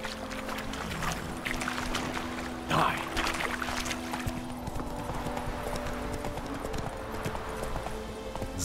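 Horse hooves clip-clopping at a steady walking rhythm while riding in the video game The Witcher 3, close and clear over a low ambient hum, with a brief louder splash partway through.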